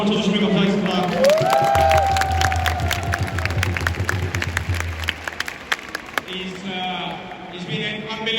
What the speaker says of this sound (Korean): 선수들에게 다시 한번 박수 한번 쳐주시면 감사하겠습니다